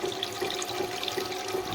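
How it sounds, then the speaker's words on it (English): Water sprays hard and steadily off the wheel of a Tormek sharpening machine running too fast while a gouge is sharpened, a close, continuous hissing splash with no speech. "See, now it starts spraying, that's too fast."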